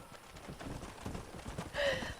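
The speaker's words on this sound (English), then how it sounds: "My horse isn't going any faster." Galloping horse hooves clip-clop in a steady rhythm in the Red Dead Redemption video game, close and continuous, with a brief snort or whinny near the end.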